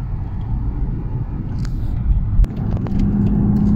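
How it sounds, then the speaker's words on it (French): A Mercedes S600 V12 Brabus W220 drives on a fast road, its engine a steady low rumble with road noise throughout and a brief thump partway, no talking. "Si j'accélère, ça part vraiment."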